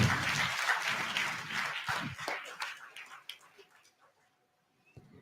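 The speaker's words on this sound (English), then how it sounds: "A big round of applause." Applause from the audience at a business growth conclave, scattered and fairly faint, thinning out over a few seconds into near silence with a last isolated sound at the end.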